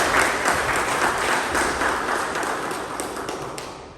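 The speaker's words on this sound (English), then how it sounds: "A big round of applause" Loud, dense applause from an audience at a Toastmasters club meeting fills the room, then tapers off gradually over a few seconds.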